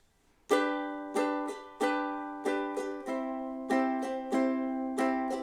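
A ukulele strummed in a steady down-down-up pattern for the intro of a song, bright repeated chord strokes ringing clearly with no voices.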